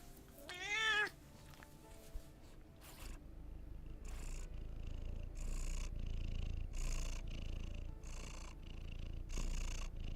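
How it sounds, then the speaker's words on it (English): A lazy house cat purrs up close in a steady low rumble that runs the whole ten seconds, with a short rising meow near the start and a few soft rustles over the top. "Alright, come give the people their purrs."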